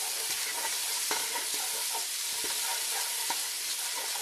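Garlic sizzling in a pan while a tomato sauce is being made, a steady close frying hiss with small crackles and occasional clicks of stirring throughout.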